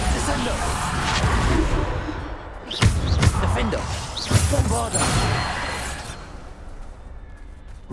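Several Bombarda blasting spells strike in Hogwarts Legacy, each a sharp slamming crash with debris-like clatter, two especially loud hits landing a couple of seconds apart amid busy game noise.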